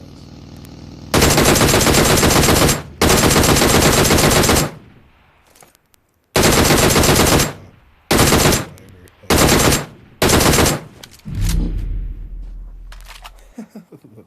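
DP28 machine gun fire in PUBG Mobile comes in several loud, sustained automatic bursts separated by short gaps, ending with a heavier impact and fading rumble.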